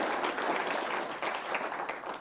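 An audience claps at a Hindi poetry recital, a dense, steady burst of applause close and loud for about two seconds with no voices over it.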